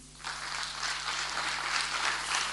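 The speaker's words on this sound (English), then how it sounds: "can you guys clap for yourself again?" A campus meetup audience bursts into applause after a brief quiet moment, a dense, sustained clapping that holds steady and close for a couple of seconds, with a faint electrical hum beneath.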